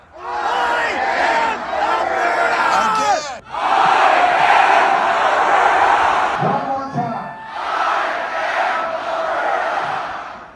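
Thousands of people at a large outdoor political rally in Alberta cheer and roar in loud sustained bursts, with a brief break and shouts between them, close and full.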